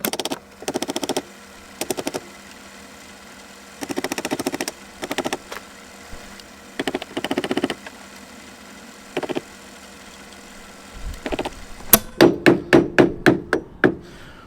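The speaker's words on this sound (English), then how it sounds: "Just need to hammer that out now." Repeated metal hammer blows in short bursts knocking out a Mazda MX-5 front suspension part, then a fast run of about ten sharp ringing strikes near the end, close and loud.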